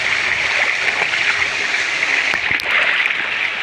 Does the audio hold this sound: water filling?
yes